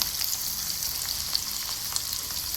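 Mustard seeds sizzle in hot oil, a close, steady bright frying hiss with scattered tiny pops and crackles throughout, no voices.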